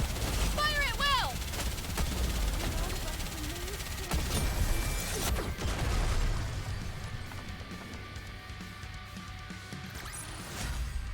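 Gunfire bursts in the video game Goddess of Victory: NIKKE, a dense, sustained volley of shots running under a busy battle mix with a voice calling out over the top.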